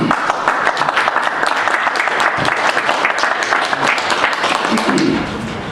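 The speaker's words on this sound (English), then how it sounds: "Can you clap?" Sustained applause from an audience at a county commission meeting, honoring veterans in attendance; dense, steady clapping fills the room for several seconds, with a bit of voice mixed in near the end.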